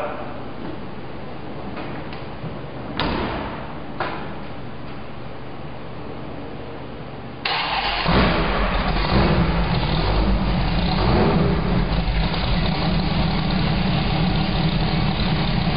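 A 2006 Dodge Viper Comp Coupe race car engine runs steadily, then swells abruptly into a louder, fuller roar that holds for the rest of the clip, with no voices over it.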